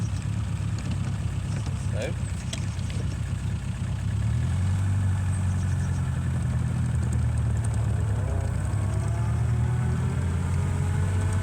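A 1936 Rover tourer's engine idles steadily after being revved, giving a continuous low mechanical hum and rumble close by, with someone briefly speaking over it.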